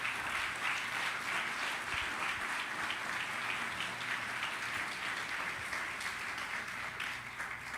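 Church congregation applauding during a Sunday service, a steady wash of many hands clapping at moderate distance, evenly sustained throughout.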